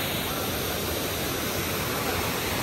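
A waterfall near Hyderabad gives off a steady, even rush of falling water that fills the whole short stretch without pause.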